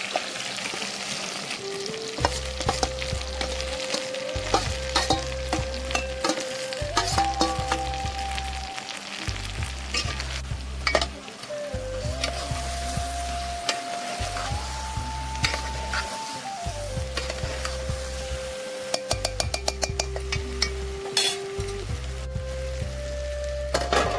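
Homemade spice masala added and stirred into stuffed brinjal frying in oil in a Kathiawadi country-style kitchen: a steady sizzle with scraping stirs, running continuously under rhythmic background music.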